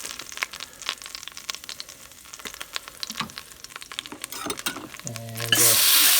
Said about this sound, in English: Got a combination of olive oil and butter sizzling away.